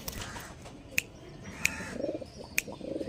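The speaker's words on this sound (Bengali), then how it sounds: "পায়রা দেখে নিন আগে" Pigeons of the Andhra breed coo softly indoors, a low murmuring coo under faint room noise, broken by three sharp clicks.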